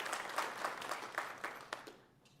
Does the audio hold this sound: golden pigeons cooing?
no